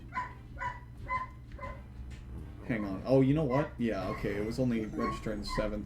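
A dog barks several times in quick bursts in the background of a Donkey Kong 64 livestream, then falls quiet as someone talks over it.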